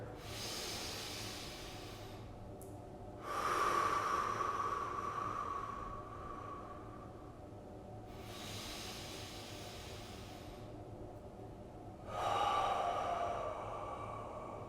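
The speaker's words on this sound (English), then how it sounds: "big inhale through the nose and big relaxing exhale through the mouth" Slow, deep breaths drawn in through the nose and let out through the mouth during a spine-focused exercise session, two long breath cycles with soft, airy inhales and louder, hissing exhales, close and steady with no talking.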